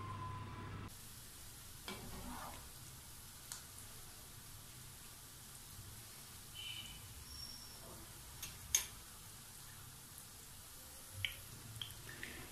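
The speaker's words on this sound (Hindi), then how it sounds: "अब हम इन्हें फ्राई करेंगे और आपको दिखाएंगे" Chicken tikka cheese bread rolls fry in hot oil with a faint, steady sizzle, broken by a few soft pops and crackles, with no talking.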